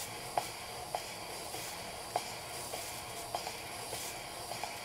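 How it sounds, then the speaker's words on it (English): Soft, steady hissing of steam and water escaping from a steam engine's safety valve at low pressure, with faint periodic ticks or puffs recurring roughly every half second, fairly quiet and close. "there's a little bit of steam and water coming out of the safety valve"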